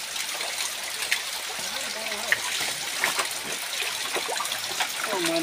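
Drinking water trickling from a spring, a steady close wash of running water with faint voices underneath.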